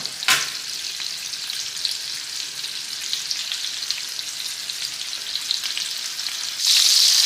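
Thin chicken cutlets fry in a pan for chicken marsala, giving a loud, constant sizzle with a sharp burst at the start and a brighter surge near the end.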